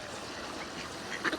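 Mallard ducks quack near a village duck park, a few short, moderately close calls rising briefly over a soft outdoor background hiss.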